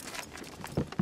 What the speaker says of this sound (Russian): Лошадки, лошадки.